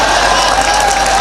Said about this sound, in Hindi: जहां जहां अच्छा लगे जोरदार तालियों से स्वागत करना।